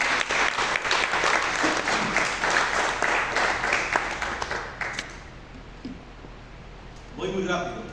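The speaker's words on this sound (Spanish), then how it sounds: "Dale una ofrenda de palmas al Señor." A church congregation claps together loudly for about five seconds before the applause fades into quiet room tone, and a preacher's voice returns at the end.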